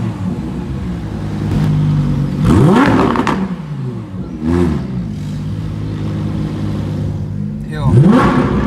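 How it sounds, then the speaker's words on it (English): A Lamborghini Huracan Performante drives past on the streets of Cape Town, its engine roaring up and sweeping by in several loud passes over steady traffic noise, with voices talking nearby. "It sounds so good. Glad to see another Performante on the streets of Cape Town."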